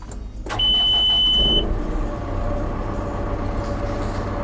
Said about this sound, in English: So if I start the engine